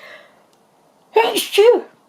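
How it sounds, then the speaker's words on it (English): A single sharp sneeze with a quick two-part burst, close and loud, after a brief moment of quiet. "Excuse me, I'm going to sneeze."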